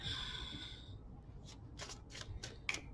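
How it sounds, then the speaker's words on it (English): Tarot cards are drawn out and shuffled for a Taurus reading: a brief high ringing tone fades, then a series of crisp, close riffling bursts of cards being shuffled follow, fairly quiet, with no speech. "let's get your cards out here"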